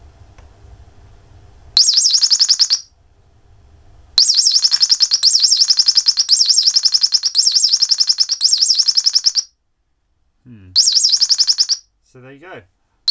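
Electronic birdsong sound chip emitting loud, screechy square-wave chirps in rapid repeated bursts, with short gaps of silence between phrases and a few brief sweeping tones near the end.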